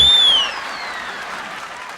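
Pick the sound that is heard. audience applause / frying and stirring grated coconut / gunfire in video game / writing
audience applause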